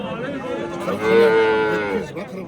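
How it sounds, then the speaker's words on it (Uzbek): A single long, low cow moo swells and fades over about a second, loud and close, with faint outdoor background noise at a livestock market. "Katta sigir."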